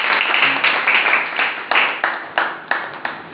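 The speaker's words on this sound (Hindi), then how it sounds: "जोरदार तालियां पालकों के लिए।" An audience at a school event in Betul applauds for parents, with dense, steady clapping that thins toward the end into a few separate, sharper claps.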